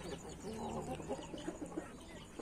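Several roosters and hens cluck and murmur nearby in a busy, continuous farmyard chorus at low volume.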